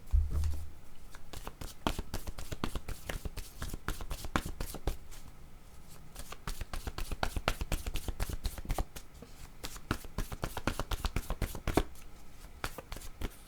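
Oracle cards being shuffled by hand: a steady, rapid riffling patter of card edges, close and fairly quiet, continuing almost without pause throughout.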